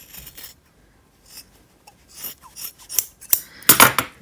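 Close scissor snips trim excess fur off a handmade Smiggle purse, coming in scattered bursts that grow busier and louder toward the end, with no talking.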